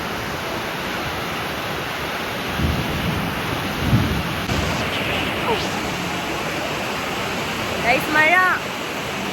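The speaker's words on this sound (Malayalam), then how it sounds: "മഴ" Steady heavy rain pours down on a rainy day, a dense continuous hiss with a few low thunder rumbles swelling through it.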